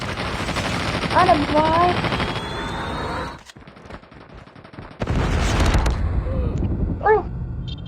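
Sniper rifle gunfire in the Call of Duty video game, with loud sharp shots mixed into dense game action and someone talking excitedly over it.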